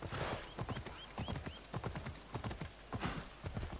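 Rhythmic clip-clop of video game horse hooves trotting at a steady pace, fairly close, with a few faint high squeaks above the hoofbeats.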